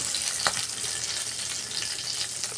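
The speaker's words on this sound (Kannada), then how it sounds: "ಇಲ್ಲಿ ಉದ್ದಿನಬೇಳೆ ಸ್ವಲ್ಪ ಕೆಂಪಗಾಗಬೇಕು, ಅಲ್ಲಿವರೆಗೆ ಫ್ರೈ ಮಾಡಬೇಕು." Urad dal and tempering spices fry in hot oil for a cucumber palya, a steady close sizzle with a few light stirring scrapes, no voices.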